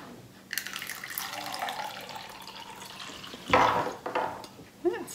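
Liquid poured into a cup while testing gel pads, a steady close trickle for a few seconds followed by a brief louder splash and a short burst near the end, with no talk.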